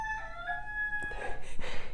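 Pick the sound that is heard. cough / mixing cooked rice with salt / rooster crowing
rooster crowing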